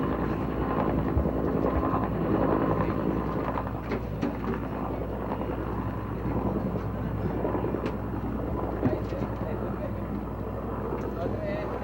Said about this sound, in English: How do you feel when you see those helicopters up there?